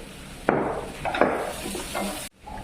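Coarsely crushed ginger garlic paste frying in a pan, a close hissing sizzle with a few sharp scraping stirs, cut off abruptly near the end.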